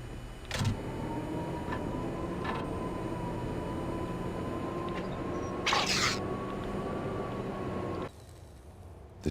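A train in Max Payne 1 gives a steady low rumble with a sustained mechanical whine and a few sharp clanks, continuous and fairly loud before cutting down near the end.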